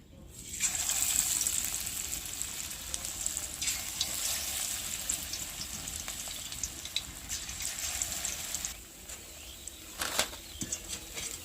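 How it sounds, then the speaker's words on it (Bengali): Potato pakoras deep-fry in oil over a low flame, a steady broad crackling sizzle that runs nearly unbroken for about eight seconds, then eases off into quieter scattered pops and a few sharp spatters near the end. "তো এবার আমি বাকি পকোড়াগুলো ভেজে নিচ্ছি।"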